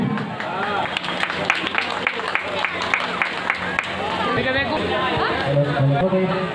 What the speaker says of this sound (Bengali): এটা হাততালি দিন